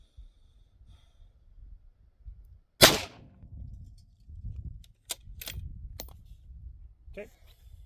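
Suppressed .308 Winchester rifle firing 147-grain ball ammunition through an AAC Sabre Blade suppressor: one sharp, loud report near the start, followed by a few fainter clicks and clatters, with low murmuring in the background.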